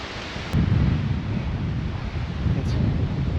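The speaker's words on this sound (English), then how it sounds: "It's really windy up here on this ridge." Strong wind gusts across an exposed mountain ridge on the Tripyramids trail, a continuous low, rumbling roar buffeting the microphone with no voices.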